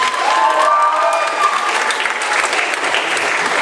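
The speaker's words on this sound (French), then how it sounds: "On applaudit déjà, on est chaud là toujours." An audience at a cosplay award ceremony breaks into loud, sustained applause, a dense wash of clapping from a large crowd with a few cheers and a voice briefly audible over the start.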